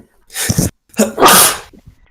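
A close sneeze bursts out in two parts, a short sharp intake followed by a loud explosive release, then a few faint breaths trail off.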